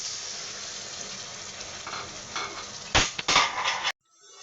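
Fried spice paste for a chicken and green papaya curry sizzles steadily in a pan, then erupts into two louder, hissing bursts as water hits the hot oil, followed by a sudden drop to near quiet.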